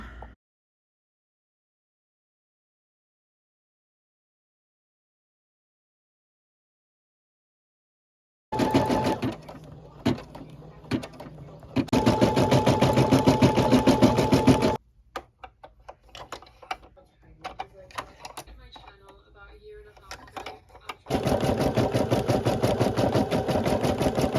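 A sewing and embroidery machine stitching: silence at first, then loud, fast rhythmic needle clatter that drops to a lighter ticking pattern before running hard again.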